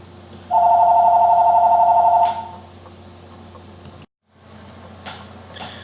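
A phone rings once in a single sustained electronic trill of about two seconds, fairly loud and close, over a quiet room hum, followed by a few soft clicks and near silence.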